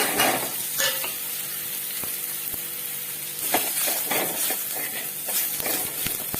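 Masala and tomatoes sizzle in a pan over low gas heat, a steady close frying crackle broken by the occasional scrape and clink of a spoon stirring; no one speaks.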